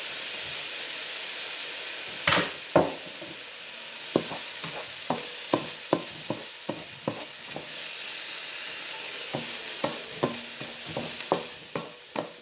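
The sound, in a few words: white wine vinegar sizzling in a pan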